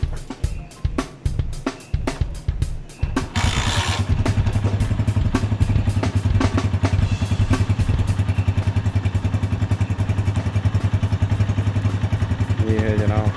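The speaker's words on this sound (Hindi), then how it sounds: "ये है जनाब होंडा CG 125 की आवाज़।" A 2017 Honda CG 125 motorcycle engine clatters through a few uneven starting thumps, then settles into a loud, steady, close-up idle that runs without talk to the end.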